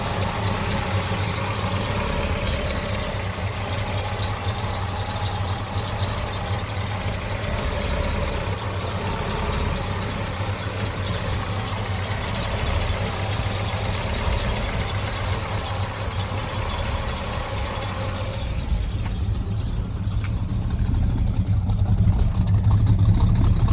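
A 1970 Chevrolet Chevelle's engine idles close by with a steady, loud, deep rumble that holds even throughout and swells slightly near the end.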